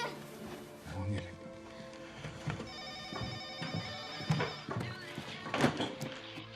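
A telephone rings in a home in the early morning, its bell sounding over a busy, cluttered background of household knocks and movement.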